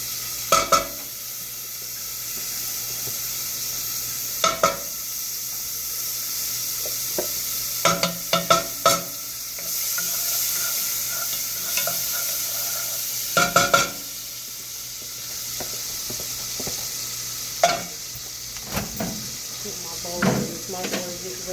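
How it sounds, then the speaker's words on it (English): Butter melts in a pot over low heat with a soft steady sizzle, broken by sharp clanks of the pot and utensils and occasional muffled speech nearby. "I'm gonna put me some butter in this pot and melt the butter for those mashed potatoes."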